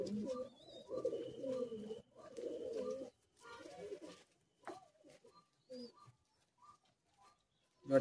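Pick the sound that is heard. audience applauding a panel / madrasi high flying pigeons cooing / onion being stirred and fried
madrasi high flying pigeons cooing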